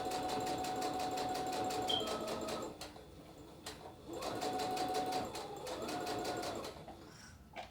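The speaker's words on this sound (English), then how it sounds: "The last step is to top stitch the neck binding so it lays flat." A sewing machine top-stitching the neck binding on a knit shirt, running in steady buzzing bursts with a short pause between runs, close and clear.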